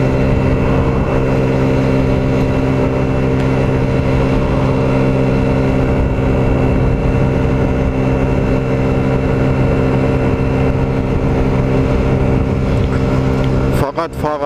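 A cold Longjia scooter engine idles steadily with a strong low harmonic drone, throttle gently blipped, loud and close throughout, ending in a short burst of clatter.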